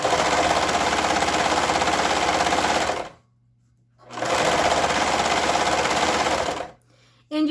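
Serger overlocking the seam of a reusable grocery bag: two loud, steady runs of fast mechanical stitching, each about three seconds, separated by a short pause with a faint low hum, close to the machine and without talk.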